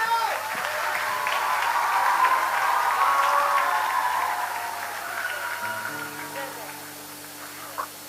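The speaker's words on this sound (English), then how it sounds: "Please give her a round of applause." Audience at a secondary-school annual day concert applauds a head girl, a broad sustained wash of clapping that swells and then fades, with a tonal hum entering near the end.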